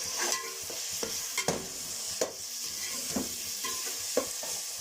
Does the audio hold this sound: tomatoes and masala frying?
yes